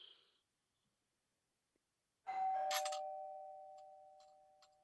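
A doorbell chimes once with a two-note ding-dong. The clear ring sits alone in a quiet room and slowly fades out.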